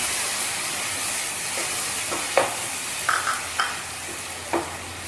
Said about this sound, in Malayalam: നന്നായിട്ടൊന്ന് മിക്സാക്കി കൊടുക്കാം.